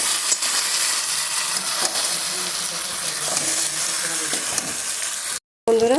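Poppy seed, green chilli and cashew paste frying in a pan, a loud continuous sizzle and hiss with stirring scrapes, briefly cut off near the end before resuming.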